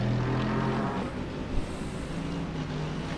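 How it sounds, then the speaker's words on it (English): A GT3 race car's V8 engine in the iRacing sim, running low on fuel at Mosport, drones steadily and loudly with a brief surge in the middle, hinting at an uneven, spluttering note. "His car just doesn't sound right. It sounds like it's running out of fuel."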